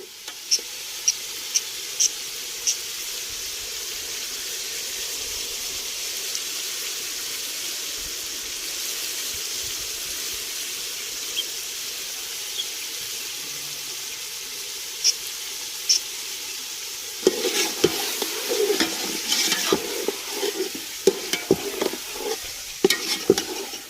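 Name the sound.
chicken frying with tomatoes in a pot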